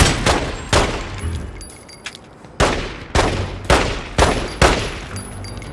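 Loud gunfire from The Godfather II on PS3, several sharp bursts spaced irregularly with decaying echoes between them, heard alone with no talk.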